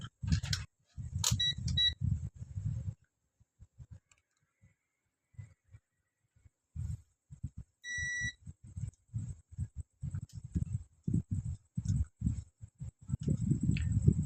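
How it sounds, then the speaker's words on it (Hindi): A multimeter set to continuity gives short electronic buzzer beeps while diodes in a Philco voltage stabilizer's bridge rectifier are tested, a few brief tones amid low rustling and handling noises. "मीटर कंटिन्यूटी पर और बजर पर चेक कर सकते हैं।"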